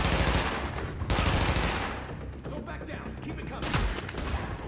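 Loud automatic gunfire erupts in The Division on PS4, with dense bursts of rapid shots that come and go over a few seconds while voices speak in the background.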